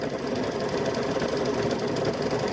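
Steady, fast mechanical whirring and rapid needle chatter from a sewing machine stitching a patchwork quilt, close and continuous with no pauses.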